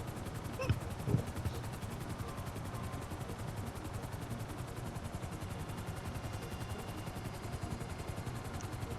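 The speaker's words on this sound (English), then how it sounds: "the police at Mission Row don't even notice that ominous helicopter flying above them" A helicopter in the video game GTA 5 flies overhead with a steady, rapid rotor chop that stays even throughout, with a couple of sharp knocks near the start.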